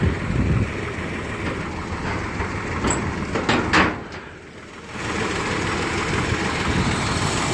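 A 1964 Dodge D200 Power Wagon crew cab 4x4 idles with a steady, rough exhaust rumble heard up close, dipping briefly in the middle before resuming, with no talk.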